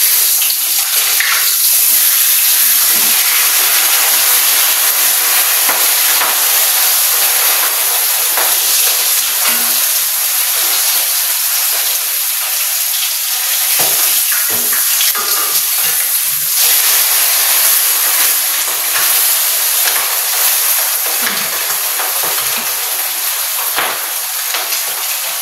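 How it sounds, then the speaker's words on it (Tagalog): A steady, loud hissing sizzle of food frying in oil continues throughout, bright and close, with faint crackles and no talk. "Ito na po ang ating prito."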